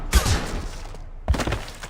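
Two sharp gunshots in the sci-fi shooter Mass Effect 2, each a loud close crack with a short decaying tail, spaced about a second apart.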